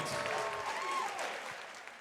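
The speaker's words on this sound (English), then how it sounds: "round of applause for these two fighters" A fight-night crowd applauds two fighters after a championship-caliber bout, a faint, distant wash of clapping and crowd noise that fades gradually.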